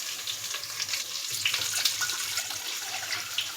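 Hot water pours into a pot while vegetable uppindi is being made, a steady, close splashing and hissing stream that runs without a break and with no voices.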